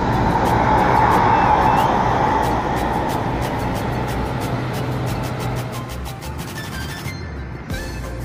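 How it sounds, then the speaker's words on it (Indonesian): A Bagong intercity bus pulls out of Tamanan bus terminal in Kediri, bound for Surabaya by toll road. Its engine rumbles loud and steady at first, then eases slowly away amid terminal ambience. "Dan langsung berangkat bus Bagong menuju ke arah Surabaya via tol"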